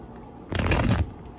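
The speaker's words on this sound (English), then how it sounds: "so I get these cards shuffle, get the read going" A deck of tarot cards being shuffled in one quick, close riffle burst of about half a second, set between quieter room tone.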